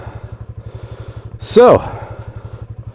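A motorcycle idles close by with a steady, even low throb, while someone briefly speaks over it and a short sharp noise cuts in near the middle.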